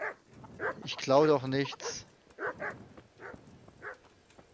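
A dog barks in the medieval role-playing game Kingdom Come: Deliverance, several short yips and barks spread across the clip, with someone talking over them in the middle.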